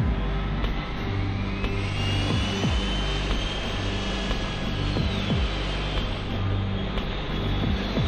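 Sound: militia fighter spaceship flying, cartoon sound effect

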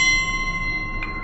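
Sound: Wuhan 5-inch gong

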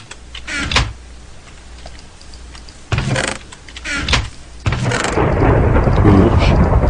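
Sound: thunder from lightning in Minecraft video game

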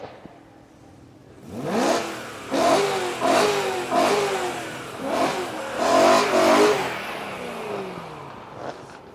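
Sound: Volkswagen Golf car engine revving

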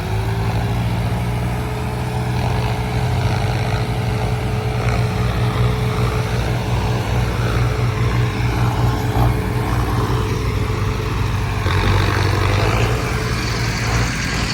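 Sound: tractors working to fill a pit with soil

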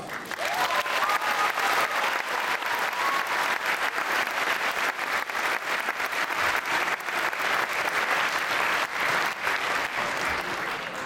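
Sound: audience applause

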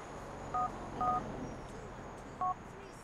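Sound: text message notification tone on phone in Grand Theft Auto IV video game

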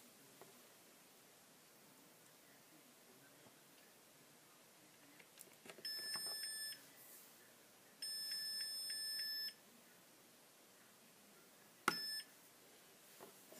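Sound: device beeping while powering up

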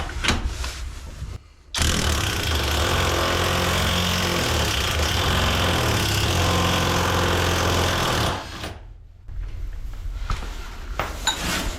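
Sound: pneumatic impact wrench unscrewing nuts

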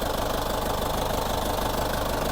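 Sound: tractor diesel engine running

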